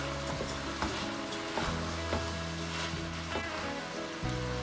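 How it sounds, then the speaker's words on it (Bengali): Washed rice and lentils fry in a pan for vegetable khichuri, giving a soft, continuous sizzle with occasional stirring scrapes, close by and under a faint tonal background. "আমি এখন এই চালটা একটু ভেজে নেব।"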